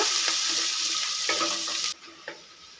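Chopped onions frying in oil, a bright, dense close sizzle with light stirring clicks that drops suddenly to a much quieter bubbling hiss partway through.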